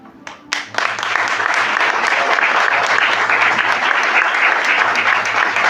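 Loud, sustained applause from a theater audience at a comedy drama festival, rising sharply after a brief quiet lead-in and holding steady dense clapping throughout.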